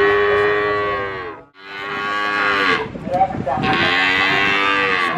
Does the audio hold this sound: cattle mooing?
yes